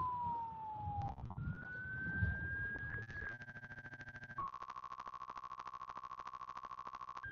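A siren sweeps and then settles into fast pulsing tones, heard amid traffic and engine rumble, fairly distant but clear.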